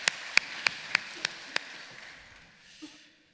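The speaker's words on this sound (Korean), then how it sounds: "우리 하나님께 영광의 박수 돌립니다" A handful of separate claps at a church service, sharp and fairly close, about six in a steady rhythm, then fading into a soft room hush.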